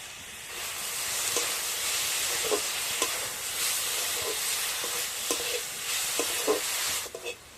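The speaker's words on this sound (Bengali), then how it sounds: "কড়াইতে দিয়ে দিচ্ছি নারকেল আর দিয়ে দিচ্ছি বন্ধুরা আখের গুড়" Grated coconut and cane jaggery cook in a wok as a filling for ata pitha, a loud, continuous hissing sizzle broken by repeated scraping taps of a stirring spoon.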